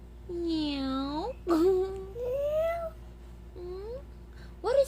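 A cat meows in a string of drawn-out, rising-and-falling cries, close and fairly loud, with short pauses between them.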